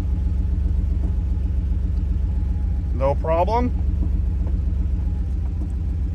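A Porsche 911 engine idles with a steady low rumble as the gearbox is shifted into reverse, while a voice speaks briefly midway over the running motor.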